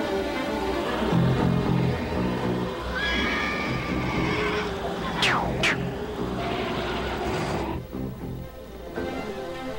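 Cartoon mechanical horses whinny in a 1984 Transformers animated episode, with two sharp, rising-and-falling neighs near the middle standing out over a dense backdrop of music and effects.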